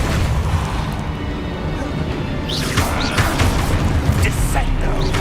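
Blasting spell impacts in Hogwarts Legacy: a burst of booming, crashing hits with whooshing energy, loud and close, over continuous game ambience and rumble.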